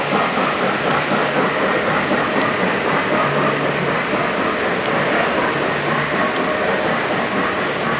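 A model train running on a club layout, the Milwaukee Road 261 Northern 484, rolls along the track with a steady, continuous rumble and rail clatter, close and fairly loud, with no talking.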